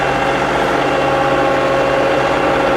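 A John Deere 2038R compact tractor engine runs steadily at a constant idle-like drone, close and loud, with a smooth unbroken hum and no talking.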